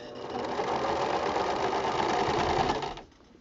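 A sewing machine runs steadily, stitching binding onto a hexagon quilt around a curve, a close continuous whir that stops abruptly near the end, leaving a faint hum.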